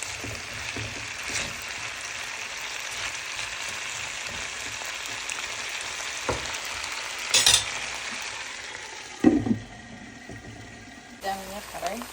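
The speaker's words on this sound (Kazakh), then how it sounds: "Мына екеуі әдемі болып қуырылды." Potatoes and bell pepper fry in a pan, a steady moderate sizzle under continuous hiss, with occasional scrapes and a couple of brief clatters toward the end.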